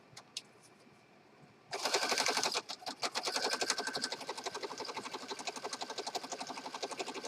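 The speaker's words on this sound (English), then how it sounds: "I'm just going to do a zigzag stitch all the way around." A sewing machine running a zigzag stitch around the edge of a printed fabric piece for a peacock-themed journal, starting abruptly after a quiet moment and then chattering in a fast, steady rhythm, with one brief pause.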